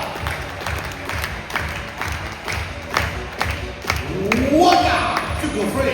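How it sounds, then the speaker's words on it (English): A crowd at a basketball game claps in a steady rhythm at the urging of an announcer, with repeated sharp hand claps under loud talk and rising shouts near the end. "wants everyone to clap your hands"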